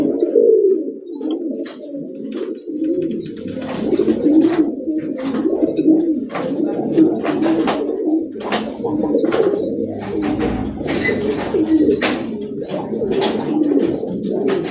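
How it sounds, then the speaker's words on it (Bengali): A grizzle racer pigeon cooing close by, a run of low, throaty, rolling coos repeated steadily for several seconds, with faint chirps of other birds behind it. "পায়রার ডাক কাকে বলে"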